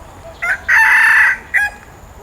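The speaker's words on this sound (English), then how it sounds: "There's the cockerel." A cockerel in a botanic garden crows nearby, loud and sustained, with a short note before and a brief call after, and no talk over it.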